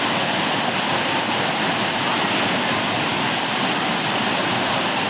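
Old Courtallam waterfall in Tamil Nadu roars with a steady, dense rush of falling water, loud and unbroken throughout, with no voices.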